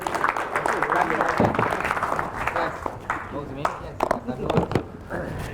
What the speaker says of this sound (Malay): Bagi tepukan tu dia, tuan-tuan dan puan